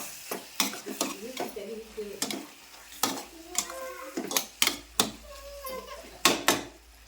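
Bhaji ingredients get stirred in a pan, with repeated close scraping and clinking strokes of a utensil in an uneven rhythm over a soft background. A faint voice can be heard in places.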